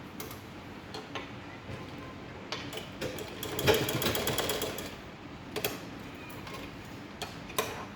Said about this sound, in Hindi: इसको प्रेस करके पहली सिलाई लगा देनी है